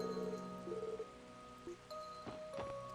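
Steady rain falls in the video game Trails to Azure, a continuous soft hiss of patter heard beneath sustained musical tones and a few brighter chime-like accents.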